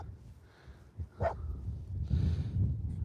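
A single dog bark rings out nearby, followed by rustling and low outdoor noise.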